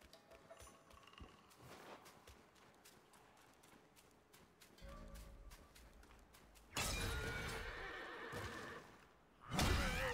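Horse neighing loudly in the action game Black Myth: Wukong, with clopping hooves and game effects, the whinnies bursting out near the end over a busy backdrop.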